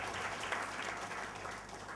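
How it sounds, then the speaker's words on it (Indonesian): A church congregation applauding in praise of Jesus, a brief wash of steady, moderately loud clapping from many people with no clear voices. "Tepuk tangan buat Yesus"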